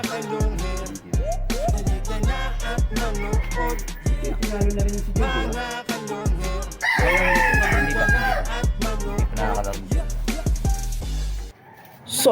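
Gamecock roosters at a cockfight crow loudly and repeatedly, rising and falling calls overlapping one another nearby, with a voice occasionally audible underneath.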